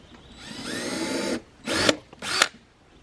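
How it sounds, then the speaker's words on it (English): A power drill whirs into wood in one long run, drilling a pilot hole in a picnic table, then two short bursts, close and loud. "I'm just going to drill a quick pilot hole here."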